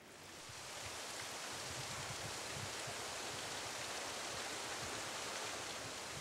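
The North Fork Skokomish River rushes steadily about 1,000 feet downstream of its canyon exit, a soft, even, unbroken hiss of flowing water with no other sounds.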